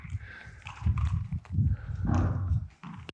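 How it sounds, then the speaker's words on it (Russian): Horses moving about a stable in Saudi Arabia, hooves clip-clopping in loose irregular steps close by, with snorts and shuffling mixed in and an occasional faint whinny. "Здесь много лошадей, лошадок."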